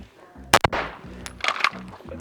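Two sharp, loud reports from a 2011 pistol at an outdoor shooting range, fired in quick succession, then a pause and a second close pair of shots, with faint background noise between them.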